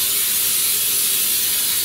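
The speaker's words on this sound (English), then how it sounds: "I always like to use my nonstick spray with the flour in it" Nonstick baking spray with flour mixed in is sprayed into a cake pan: one continuous close, loud hiss that holds steady for about two seconds, with no talking.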